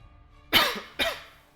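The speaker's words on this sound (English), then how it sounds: "That was the sound of me hitting my chest because I coughed." Two sharp coughs about half a second apart, close and fairly loud, each with a dull thump from a hand striking the chest, over a quiet background with no talk.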